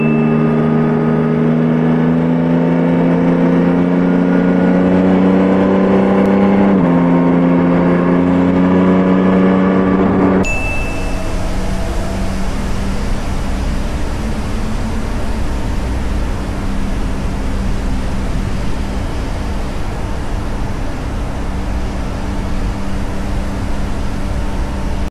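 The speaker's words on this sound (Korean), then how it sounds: "외장 마이크를 사용했을 때는 고회전에서 터지는 배기음 같은 게 선명하게 잘 들리지만" High-revving car exhaust captured by an Insta360 X5 camera's microphone, a loud engine note rising through the revs with a gear shift, then giving way to steady, broad wind-like roar.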